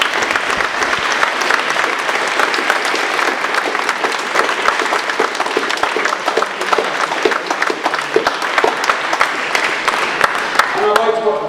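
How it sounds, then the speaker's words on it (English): An audience at a Harlow general election candidates' debate applauds the five candidates, giving loud, sustained clapping from many hands that continues for over ten seconds before a voice begins at the end. "Please give them a round of applause."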